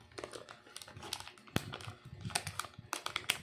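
A small 30-gram plastic packet of roasted nuts is torn open by hand without scissors, producing close crinkling and crackling plastic in quick irregular bursts with a sharp rip midway.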